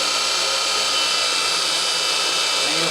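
Steady whirring hum of a Lighthawk Aero rotor spinning, a continuous airy drone like a small fan, close and unchanging.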